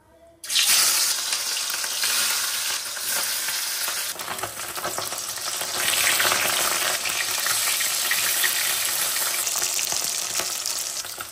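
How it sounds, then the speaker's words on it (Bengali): Fish frying in a pan, a loud, close sizzle that erupts suddenly as the pieces hit the oil and then holds as a steady crackling hiss, with no voices. "মাছের ঝাল করব তার জন্য মাছগুলো ভেজে নেব"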